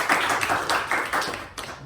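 A small church congregation claps for a couple of seconds, a brief burst of applause that is fairly loud and close.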